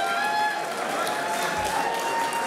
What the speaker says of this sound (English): Give him a good round of applause for that